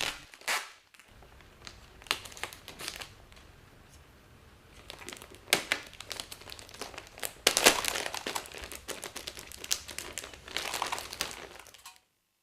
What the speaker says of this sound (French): Placez les morceaux d'adhésif autour de chaque suspente.